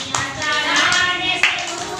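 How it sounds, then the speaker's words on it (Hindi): Hands clapping along to a Hindi Shiv devotional song during Sawan, a few sharp claps over sung music. "ताली बजा"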